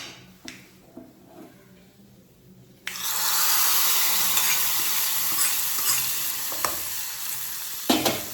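Curry hisses and sizzles in a hot pan as a spoon stirs it, after a few quiet clinks and taps. The frying rises suddenly and holds steady, with occasional scraping knocks against the pan.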